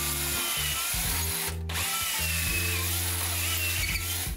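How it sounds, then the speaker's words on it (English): A power drill whirs in short bursts, stopping and restarting several times with a steady motor hum, close by and loud, with no talking. "I'll usually drill a little bit and ease it off."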